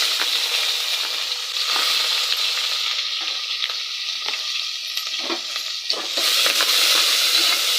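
Chopped onions sizzle loudly and steadily in hot oil, with occasional scrapes and clicks from stirring.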